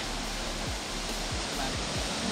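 Burude waterfall near Siddapur roars with a dense, continuous rush of falling water. The sound is loud and steady throughout, with a few low thumps underneath.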